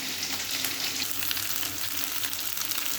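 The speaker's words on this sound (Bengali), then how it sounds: "কাঁঠালগুলো সব ভাজা হয়ে গেছে" Jackfruit pieces frying in oil, a close, dense crackling sizzle with light stirring throughout, steady and unbroken, without any talking.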